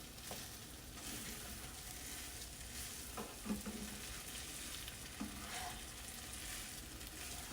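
Sticky rice biko being stirred in a pan, steady soft scraping and faint sizzling with a few louder scrapes of the spoon, fairly quiet and without voices.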